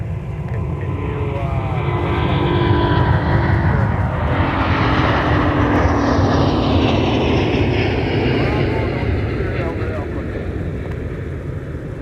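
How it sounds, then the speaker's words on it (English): An Airbus A330-900 with Trent engines departs runway 30 right at MSP airport; a loud, continuous jet roar swells to a peak and slowly fades, with some wind noise. "A330-900. I'm sure we could tell because of the sound of those Trent engines."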